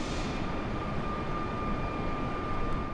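An Airbus airliner cruises in Microsoft Flight Simulator on Xbox Series X, its engines giving a steady, loud, broadband roar with a constant high whine over it, unbroken and without talk.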